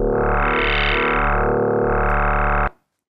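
Static tone from an FM8 synthesizer with no envelope shaping, a loud sustained buzzy harmonic note that holds steady, then cuts off abruptly into silence.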